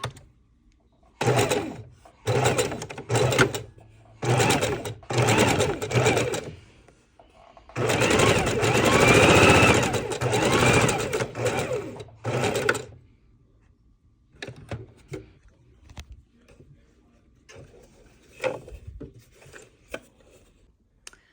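A sewing machine stitches pieces of fabric for pinwheel quilt blocks, running in quick rhythmic bursts and one longer continuous run, then falling to lighter handling clicks and rustles near the end.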